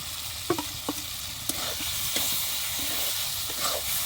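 Snail meat tipped into a spice paste frying in a pan: a continuous hissing sizzle with a few sharp spoon-scrape clicks on the pan, close and clear, no voices.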